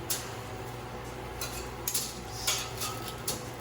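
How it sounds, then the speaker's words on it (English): Onions tossed into a bowl while making roasted red bell pepper muhammara dip, heard as a few light clattering knocks and dish clinks at close range, with no talk. "I'm going to throw the onions in the same bowl."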